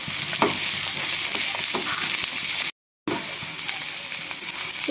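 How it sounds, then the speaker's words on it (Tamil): Onion, green chili, ginger and garlic frying in a pan give a loud, steady sizzle with stirring scrapes, broken by a brief cut to silence midway. "இப்போ நம்ம இஞ்சி பூண்டு சேர்த்து நல்லா ஃப்ரை பண்ணி எடுத்துக்கலாம்."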